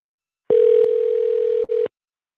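A telephone ringback tone sounds while a call is placed, a single steady tone lasting over a second with a brief break near the end, loud and alone with no talking.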